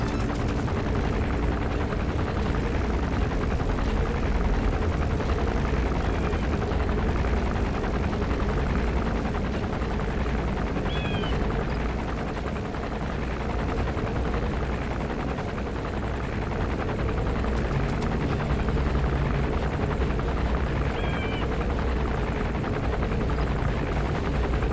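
A helicopter lands in the video game Metal Gear Solid V: The Phantom Pain, its loud steady rotor roar filling the whole stretch without pause, with faint gunfire-like bursts underneath and no talking.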